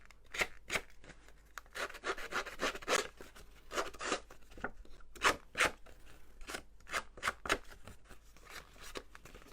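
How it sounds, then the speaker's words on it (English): Paper being torn and crumpled by hand to texture a handmade card, a string of short rough tearing and rustling bursts, close and fairly loud, with brief pauses between. "Just break the paper."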